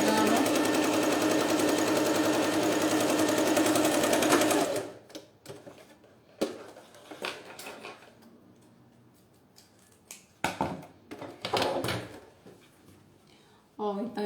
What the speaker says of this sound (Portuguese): vou costurar aqui com meio pé de máquina